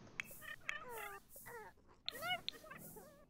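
A cat in The Sims 4 video game meows several times in quick succession, short wavering cries close by with small clicks between them, no talking.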